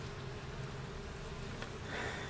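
Honey bees buzz faintly around an open hive during an inspection, a soft steady hum with a slightly brighter swell near the end.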